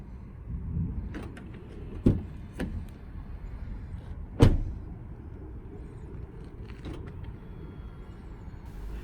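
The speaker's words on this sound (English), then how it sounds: "we leave the car and unlock the car several times" A 2019 Lexus RX300's lock mechanism clunks a few times at irregular intervals as it is unlocked repeatedly, short mechanical thuds and whirs over a low steady background hum.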